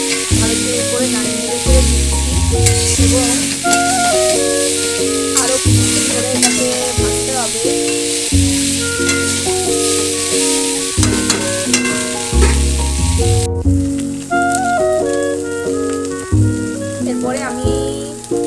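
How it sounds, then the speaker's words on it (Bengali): Pasta being stirred around a hot frying pan, with steady scraping and a soft sizzle running throughout beneath continuous melodic background music. "এখন আমি নাড়াচাড়া করে নেবো ভালো করে"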